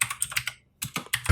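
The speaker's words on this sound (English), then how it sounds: "This furious typing brought to you by people who want to be right." Fast, furious typing on a computer keyboard, bursts of sharp close clicks broken by a brief silent gap, then more rapid keystrokes, with no voices.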